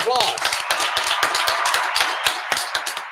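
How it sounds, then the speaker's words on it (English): Scattered hand claps from a small group at an Adult and Teen Challenge of Texas women's campus gathering, sparse and uneven, with voices and a cheer mixed in. "Applause."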